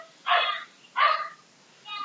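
A pet dog named Theo gives two short sharp barks close by, with a third fainter yip trailing at the end, heard indoors in a quiet room.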